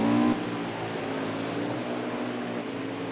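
NASCAR Xfinity race cars run at Mid-Ohio, giving a continuous engine drone with a louder burst at the start as a car passes, then a steadier roar from the field at middle distance, with no voices.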